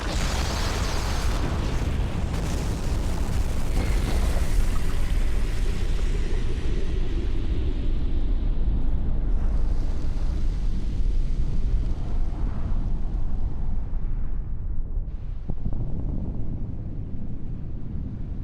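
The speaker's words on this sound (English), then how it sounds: "Claire destroys Alex with that good old traditional final boss killing weapon, the rocket launcher" A rocket launcher explosion from an animated Resident Evil 2 scene, a loud, broad roaring blast that stays dense and sustained for many seconds before slowly thinning out, with no talking.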